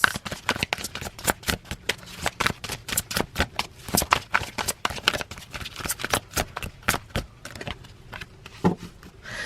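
Tarot cards shuffled for a reading: a rapid run of crisp riffling flicks and slaps, close and fairly loud, continuing steadily with brief pauses, no talking.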